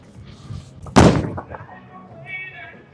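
Roto Grip Gem bowling ball striking pins: a sharp, loud crash of scattering pins after a soft rolling rumble, followed by fading clatter, with faint chatter at the end.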